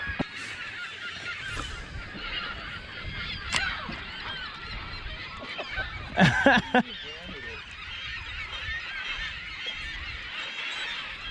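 Seagulls diving at fishing bait give a few scattered honking cries, with a louder cluster of calls midway, heard outdoors with faint talk in the background.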